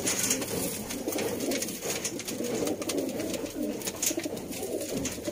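Sialkoti pigeons, pearl-marked pairs, cooing steadily in soft overlapping low calls, close by and continuous, with faint ambient noise behind.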